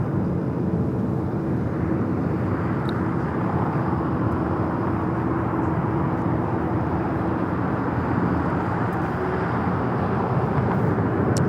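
An Alaska Airlines Boeing 737 MAX 9 airliner at LAX gives a steady, broad jet roar that holds at an even loudness throughout, with no voices over it.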